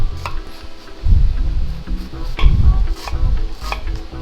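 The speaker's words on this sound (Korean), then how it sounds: "약간 부드러운 식감이 좋은 물미역을 이용해서 좀 먹기 좋게 잘게 잘라주시면 됩니다" A knife chops fresh, soft wet seaweed (miyeok) into small pieces on a cutting board for a seaweed pasta, giving a few close, uneven thuds spaced about a second apart.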